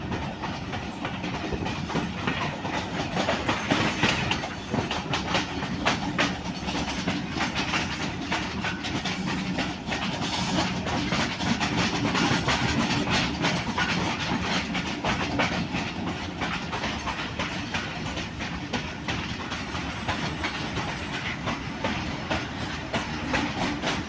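A Pakistan Railways HBU-20 locomotive hauls the PDK shuttle train from PD Khan to Malakwal, passing with a continuous loud rumble and rhythmic clickety-clack of wheels on track, steady and close for the whole stretch with no talk.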